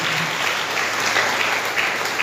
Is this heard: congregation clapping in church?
yes